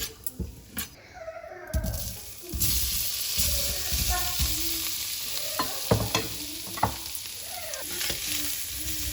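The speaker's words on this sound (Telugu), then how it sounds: "కొంచెం ఉప్పు కారం అన్నీ లైట్గా ఫ్రై అవ్వాలి" Paneer pulao ingredients with turmeric, salt and chili lightly frying in a pan on low heat, a soft sizzle under intermittent stirring and scraping, with a few brief high squeaky tones early on.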